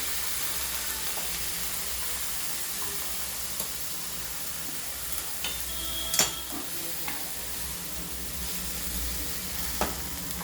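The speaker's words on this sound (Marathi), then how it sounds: "बघा सगळी कोबी टाकून दिली. आता तिला थोडं हलवून घेते." Shredded cabbage sizzles steadily in a hot pan on a full gas flame for kobi bhaji, with a spatula scraping and stirring through it in scattered clicks and scrapes; constant frying hiss underneath, no talking.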